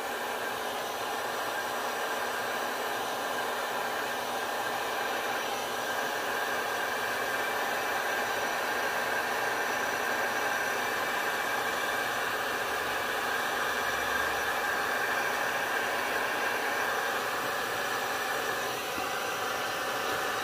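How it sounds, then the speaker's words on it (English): A heat gun with its fan turned all the way up blows over a resin turtle pour. It makes a continuous, even airflow roar that stays steady from start to finish. "So I'm going to take my heat gun, turn it on, turn the fan all the way up."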